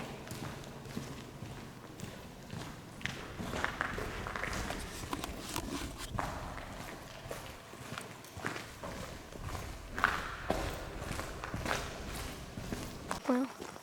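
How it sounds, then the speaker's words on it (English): Footsteps echo through Eaton Tunnel, an irregular series of scuffing, thudding steps from people walking on the tunnel floor, fairly close, with a reverberant background hum and no clear talk. "so you're gonna hear our footsteps."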